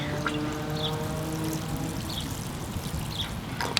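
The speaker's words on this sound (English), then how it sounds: "I'm going to give him a little water since he hasn't been watered today" Water poured gently onto a freshly transplanted seedling staked around a pole, a soft, steady trickle and splash that stays quiet and even throughout, with no talking.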